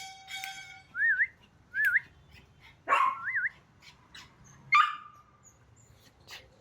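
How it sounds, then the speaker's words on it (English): A dog barks several times in short, separated bursts, with high whistle-like chirps in between and a low steady hum underneath. "What are you barking at?"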